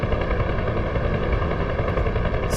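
A helicopter in a combat search and rescue video game drones loudly and steadily up close, a constant rotor and engine whine with no speech.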